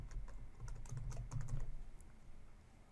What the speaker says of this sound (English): And I'm going to type in a new password.